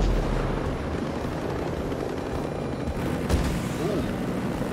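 Helicopter rotors thrum continuously in the tactical shooter Ghost Recon Breakpoint, a dense, steady wash of engine and blade noise with a faint thump partway through.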